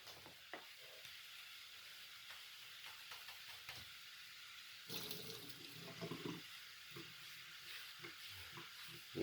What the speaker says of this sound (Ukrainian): Як бачите, кипить, лється.